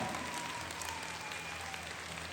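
A crowd at a stage dance show claps in a continuous, even roar of applause that sounds somewhat distant and muffled, with no clear speech.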